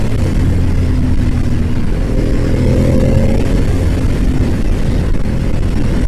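Motorcycle engine idling steadily after timing belt and valve clearance work, a loud, close, even rumble throughout with no voices.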